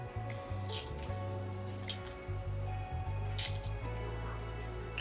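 A Princess by Kilian perfume bottle is sprayed several times, with short sharp hissing bursts standing out over a steady low background hum.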